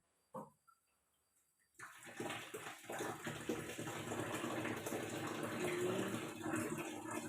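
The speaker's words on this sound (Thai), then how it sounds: "ตอนนี้น้ำไหลไม่แรงนะคะ" Water runs from a newly connected tap into a water tank at a weak flow. After a couple of faint knocks and near silence, a steady, even rush of running water starts and continues unbroken.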